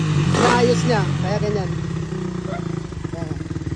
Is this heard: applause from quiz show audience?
no